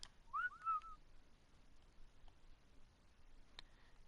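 A short whistled command from a player in the ARK video game on a Ragnarok map, two quick rising whistle notes near the start, faint and clear over quiet background, followed by soft scattered ticks and clicks.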